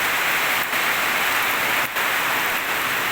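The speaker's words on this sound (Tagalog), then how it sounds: "Tingnan nyo mga idol umuulan na." Heavy rain pours down after a long dry spell, a loud, dense, hissing wash of drops that holds steady throughout with a couple of brief dips and no voices.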